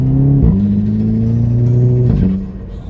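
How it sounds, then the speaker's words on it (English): Revving turbocharged engine of a VW Golf 5 GTI with DSG gearbox and a Golf 6R turbo, a loud climbing tone broken by two quick gear-shift pops with crackle, then dropping away at the end. "By the way, this one is a DSG, so just listen to this pop."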